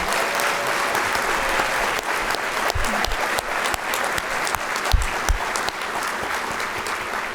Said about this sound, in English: let's clap for the elementary school winners